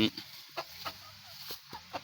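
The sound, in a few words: chickens clucking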